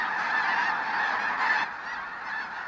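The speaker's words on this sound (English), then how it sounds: "Quill Lakes in Saskatchewan draws in tens of thousands of snow geese, looking for a place to rest and feed." Snow geese massed at Quill Lakes, Saskatchewan, honking in a dense, continuous chorus of overlapping calls, loud and steady throughout with no one talking.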